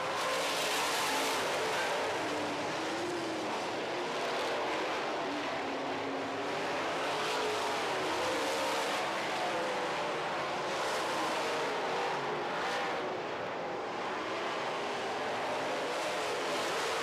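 Late model race cars on a dirt track during a feature race, engines roaring and revving as the cars battle past, a continuous loud drone with swells as they pass close by.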